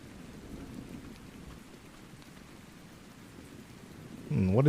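Steady rain with a low rumble of thunder in the survival game Ark Survival Ascended, a soft continuous wash, with a voice starting up just before the end.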